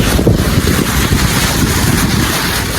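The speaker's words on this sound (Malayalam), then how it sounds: "ഇവിടെ നല്ല കാറ്റുണ്ട്." Strong wind blows outdoors near water, roaring and buffeting the microphone in a loud, continuous rumble.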